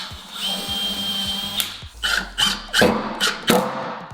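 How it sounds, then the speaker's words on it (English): Power drill boring small pilot holes for screws into a desk tabletop, marked from a template: a steady whine first, then several short separate bursts of drilling, close up. "now I'm gonna make small holes for the screws"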